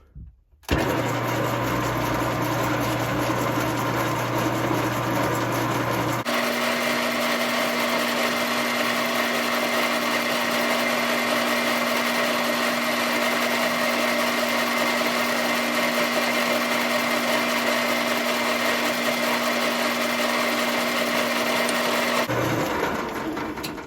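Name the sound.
drilling a hole while installing a riding mower bagger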